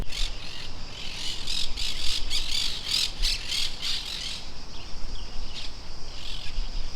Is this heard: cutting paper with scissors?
no